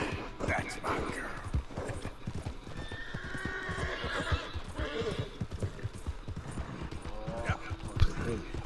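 Rapid hoofbeats clatter along steadily with a horse whinnying over them in the video game Red Dead Redemption 2, and a voice talking partway through.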